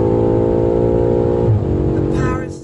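BMW M5 with Manhart MH5 700 tuning, a loud, close engine holding a steady harmonic drone that shifts and climbs in pitch as the gearing changes under hard acceleration, with rushing wind noise building toward the end.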